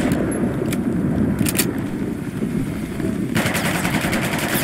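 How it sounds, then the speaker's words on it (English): Rapid bursts from a submachine gun in Battlefield Hardline, a steady automatic rattle close and loud, with a denser burst toward the end and no talking. "Little submachine gun."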